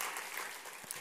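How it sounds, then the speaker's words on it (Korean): A church congregation claps during a Palm Sunday worship service, a brief steady wash of applause at low, distant level with no voices over it. "우리 격려와 축복과 사랑의 박수로 우리 격려하면 좋겠습니다."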